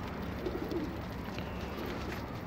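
Pigeons cooing in a loft, soft low repeated coos close by over a steady background hum, with no voices.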